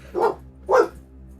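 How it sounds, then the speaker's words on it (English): Two short dog barks about half a second apart, moderately loud and somewhat distant in the background, with no talk over them. "Very good timing for Ella in the background to be barking at something else"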